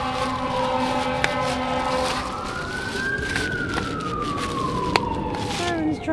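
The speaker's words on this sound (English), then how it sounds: "Sirens drive me nuts." A siren wailing in the distance, its pitch slowly rising and falling over a steady low rumble of outdoor background noise, with a couple of sharp clicks nearby.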